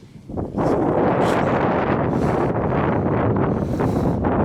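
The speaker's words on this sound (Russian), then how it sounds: "Просто реально такой силы ветер сейчас." Strong storm wind in Alania, Turkey on a March evening blasts into the microphone as a loud, continuous rumbling roar with buffeting gusts that swell and fade throughout.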